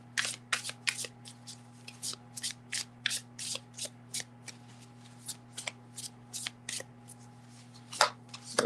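Tarot cards are shuffled in quick, repeated riffles, a crisp flurry of papery snaps over a low steady hum, close up.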